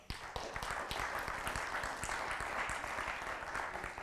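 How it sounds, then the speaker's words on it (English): Audience at a car-dealer industry conference applauding a product demo presenter, a sustained round of crisp, closely spaced claps from a roomful of people, steady from start to finish. "Let's give him a round of applause."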